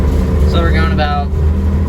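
Suzuki LJ20V running at full throttle gives a steady loud engine drone inside the cab while someone speaks briefly over it.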